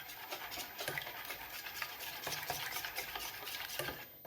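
Eggs with masala are beaten hard in a bowl for egg bread, a quiet, continuous run of rapid whisking clicks and swishes with a steady rhythm, heard alone.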